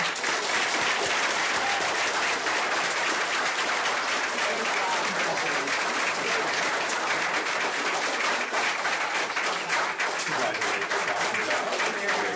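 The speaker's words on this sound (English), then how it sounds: "So please join me in a round of applause." Loud, dense applause for students at a school district celebration of young artists, a full crowd clapping continuously at close range throughout with faint voices mixed into the roar.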